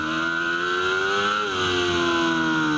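A 600cc Suzuki racing motorcycle screams along a race circuit at high revs, its engine tone holding steady then dipping briefly at a gear change before climbing again, loud and close.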